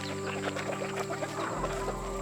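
Egg-laying hens on a rural Thai farm, clucking in a steady stream of short calls nearby over a constant background hum.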